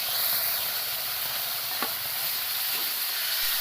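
Tomatoes fry in an open pan for a lobia masala curry, a steady close sizzle running throughout with a brief scrape of stirring partway through.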